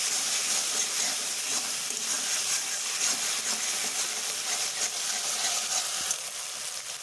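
Spices sautéing in a pan with a little water added, a steady close sizzle and hiss of frying with faint steam, continuous and even throughout with no talk.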